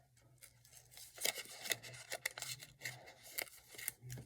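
Scissors trim a sheet of paper in a quiet room, giving a series of close, crisp snips and light rustling at an uneven pace.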